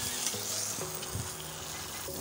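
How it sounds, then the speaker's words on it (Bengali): Pointed gourd (potol) frying in hot oil sizzles steadily and close up, with a continuous crackling hiss and occasional stirring scrapes. "তো পটলটা এবার ভেজে নেব।"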